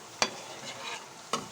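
Milk bread gulab jamun fry in hot oil with a soft continuous sizzle, broken by two sharp spatters or stirring clicks about a second apart, close up and without talk.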